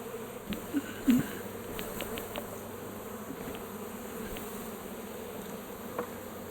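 A steady low honey bee buzz hums throughout during a hive removal, with a few brief louder bumps and clicks nearby, no voices.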